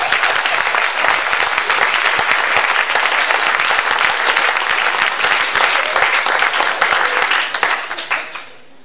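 A church congregation applauding during a service, loud, dense sustained clapping from a large crowd that holds steady for several seconds and then tapers off at the end.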